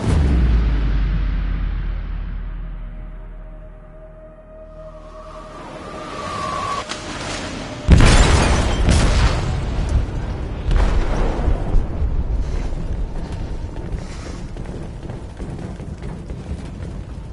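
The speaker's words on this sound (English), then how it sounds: "They detonated an explosive in the hold." A heavy explosive detonation booms inside a ship's hold in Detroit: Become Human, a loud sudden blast after a quieter lead-in with rising tones, followed by a long rumbling, crackling aftermath of debris and roaring noise.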